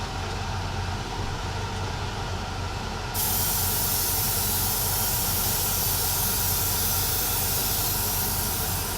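A second coat of finish is sprayed onto a model, a broad continuous hiss that grows brighter and louder partway through and then holds steady, close and unbroken by speech.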